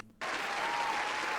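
A steady round of applause from a live podcast audience starts abruptly and holds at an even, dense level throughout, with no talking over it.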